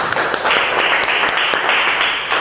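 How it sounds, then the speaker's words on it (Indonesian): A classroom of students claps together in steady, dense applause that stays loud and even for a couple of seconds, with no talking over it. "Oke, tepuk tangan dulu semua."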